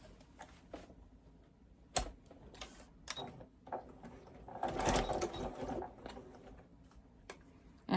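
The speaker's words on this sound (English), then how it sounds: "So now I'm going to start sewing." Sewing machine stitching rows of a quilt-as-you-go quilt through backing and batting, a run of rapid mechanical ticking with brief pauses and a louder burst midway, close and alone.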